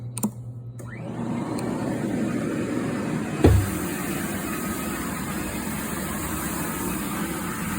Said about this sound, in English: The machine shoots down the solution, and then it sucks everything back up, the dirt and the solution back up, so the floors come dry